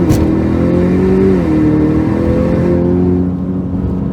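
A Ford Mustang EcoBoost with a turbocharged engine accelerates, its loud, steady drone rising slightly in pitch before easing off, with no talking.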